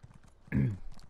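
A short burst of horse hooves clip-clopping in the Elder Scrolls Online video game, one loud cluster of thuds rising out of faint background sound before fading.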